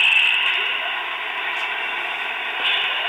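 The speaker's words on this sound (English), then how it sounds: "when I stop it by turning the throttle down to zero, it goes into neutral, lets off a little air" An HO scale model locomotive idles in neutral with a steady, hissing rush of released air, a constant noisy sound close up with a few small shifts, with no talk.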